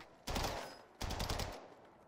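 Two short bursts of automatic gunfire in Warzone, each lasting about half a second, sound fairly close with a brief pause between them.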